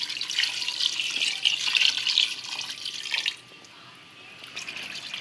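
A steady stream of water pours onto rice for chicken biryani, running and splashing for about three seconds, then stops, leaving only a faint trickle and background hiss.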